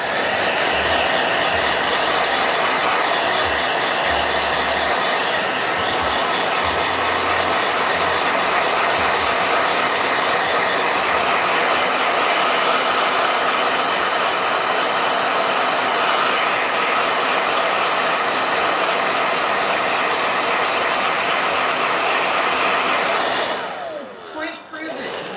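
A hair dryer runs at a steady, loud roar with an even airy whine for a long stretch, then cuts off abruptly near the end, with no voices over it.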